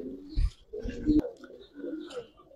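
Pigeons coo in short low bursts, close by, with a voice talking over and between the calls.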